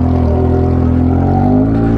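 Yamaha XJ6 motorcycle engine accelerating, a loud, close, steady drone that rises slightly in pitch as it builds speed, heard alone without talk.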